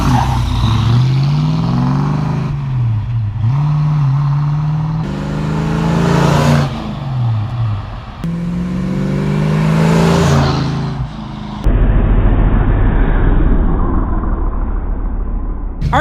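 Fox Body Ford LTD fitted with a ram air hood scoop, driving and accelerating, with a steady engine drone rising in pitch through repeated revs and gear changes, loud and close, followed by rougher road and wind rumble.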